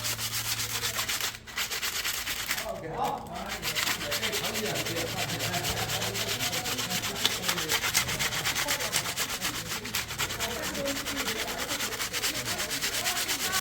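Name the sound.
sanding wooden hiking stick nubs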